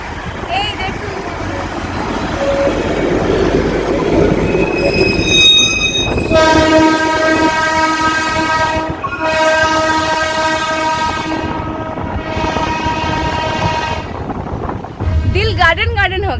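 A Darjeeling toy train rumbles past near Kurseong with a rolling clatter of wheels. Its loud, sustained horn blares in several long blasts over the din, and voices are heard faintly underneath.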